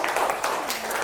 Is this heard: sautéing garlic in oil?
no